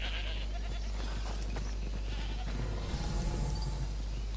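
Goats bleat faintly in the Assassin's Creed Odyssey video game over a steady low drone and ambient game sound, with a brief louder flutter of noise near the end.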